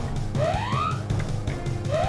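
Upward-gliding synthetic siren tones from a Pokémon FireRed alarm repeat over chiptune background music, one full sweep followed by the start of another, steady and clear without speech.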